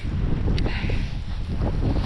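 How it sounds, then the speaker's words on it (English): Strong blizzard wind on a snowbound market farm roars and buffets the microphone, a loud, unbroken gusting rumble with no voices. "the wind is just whipping me"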